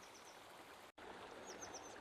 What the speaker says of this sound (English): So amazing to be able to hike right beside this nice flowing river